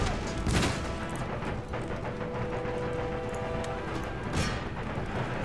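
Distant rolling musket volleys and artillery booms from an Empire: Total War battle, a dense continuous rumble with a couple of sharper bursts rising out of the din.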